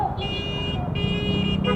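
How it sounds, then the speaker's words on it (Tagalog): Horns toot repeatedly in Manila traffic while riding a motorcycle to Divisoria, short nasal honks in several bursts over a steady road rumble, with people talking nearby. "busina ng busina"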